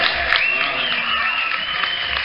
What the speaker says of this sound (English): It's okay to applaud at this point.